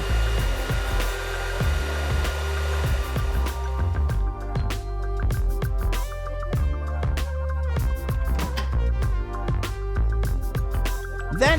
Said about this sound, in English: start slowly adding warm syrup to egg whites while whisking